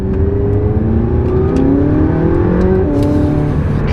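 A McLaren 675LT supercar engine revs loud and close, a steady rising and falling snarl that fills the whole stretch with no talking over it.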